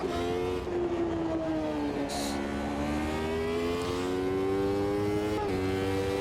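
A race car engine in the Automobilista 2 racing game, driven at a high-altitude track, holds a loud, steady drone that rises and falls in pitch, with a few sharp shifts as the revs change.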